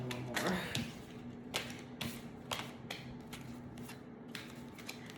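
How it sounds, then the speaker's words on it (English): Oversized tarot cards being shuffled by hand, a run of soft riffling and papery slaps coming in uneven bursts, close and fairly quiet over a low steady background hum. "I just like to shuffle until I feel called to put the cards down"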